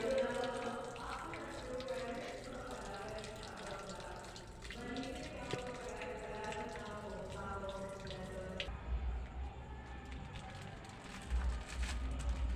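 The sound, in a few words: water filling a basin for laundry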